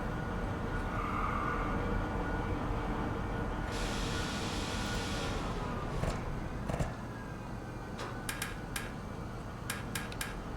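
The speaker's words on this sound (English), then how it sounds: "There's an EMD 16-cylinder supercharged, Roots supercharged diesel" EMD 16-cylinder Roots-supercharged diesel locomotive in the Derail Valley game, a steady low engine drone and rail rumble with metallic clanks and brief squeals toward the end, no talk.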